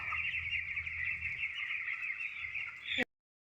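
A large flock of chickens on a poultry farm clucks and murmurs in a dense, continuous chorus, close and steady, before cutting off abruptly near the end.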